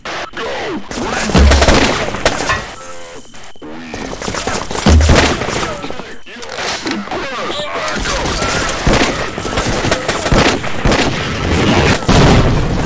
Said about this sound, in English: We've got heavy fire.